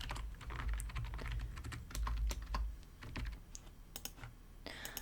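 Quick bursts of keystrokes on a computer keyboard at a hair salon front desk, close and crisp, with irregular clicks and brief pauses, a faint rustle at the end.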